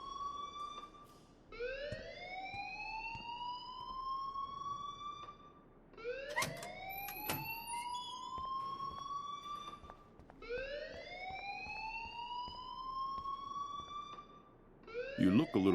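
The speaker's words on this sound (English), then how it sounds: "please turn off that alarm since that's your job" A wailing electronic alarm from the Life is Strange video game repeats in rising, siren-like sweeps, about four long cycles with brief gaps between them, loud and steady from start to finish.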